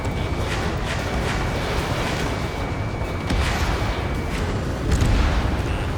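Fighter jet cannon fire in the Ace Combat 7 air combat game: a steady, dense roar of rapid gunfire and engine noise lasting several seconds, with repeated sharp bursts layered over it.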